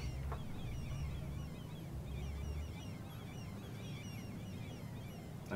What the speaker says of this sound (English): the seagulls are driving me nuts